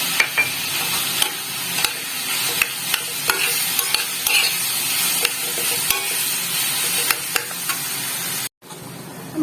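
Potatoes, cashews and raisins are stirred into a sizzling potol dorma filling in a pan: a loud continuous fry with repeated close scrapes of a spatula, then a brief break near the end.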